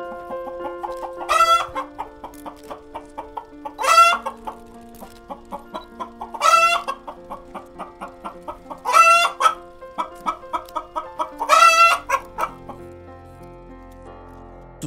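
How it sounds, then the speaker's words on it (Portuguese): Chicken clucking in loud rhythmic bursts, about five drawn-out calls spaced a few seconds apart, each trailing into short rapid clucks, close and clear against a quiet background. "se eu te metesse outra galinha, uma galinha de aviário, tu conseguias identificar?"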